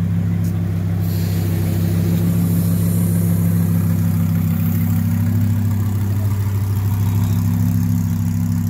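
Verde Mantis green Lamborghini Huracán LP 610-4 with an aftermarket loud exhaust, idling close by with a deep, steady drone and a slight rise in revs near the start.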